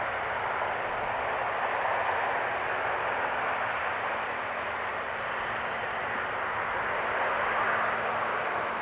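An airliner rolls down runway 18R at Amsterdam Schiphol, a broad, even engine roar and rumble heard from a distance that holds steady without breaks and carries no speech.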